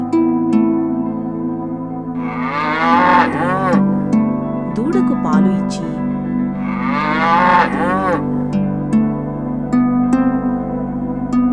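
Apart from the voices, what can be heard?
cow mooing in an animated story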